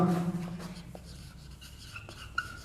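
Chalk or marker scratching out words on a board, a series of short strokes with small pauses, faint and close in a quiet room.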